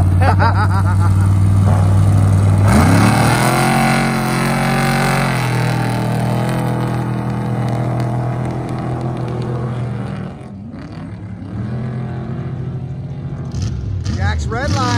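A desert-racing trophy truck engine revs loud and close at the race start, climbing in pitch as it pulls away and then holding a rough, strained drone, while commentators talk over it.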